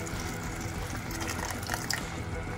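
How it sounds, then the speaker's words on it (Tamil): Tamarind water is poured steadily into a simmering fish head curry, a continuous close liquid pouring and bubbling hiss with faint splashes near the end. "நெக்ஸ்ட்டு புளி தண்ணி ஊற்றிடுவோம்."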